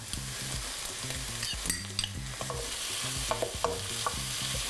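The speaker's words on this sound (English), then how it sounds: "stir frying with some oil really helps" Kimchi sizzles in oil in a hot pan with repeated scraping and stirring strokes, steady and close, with no one talking.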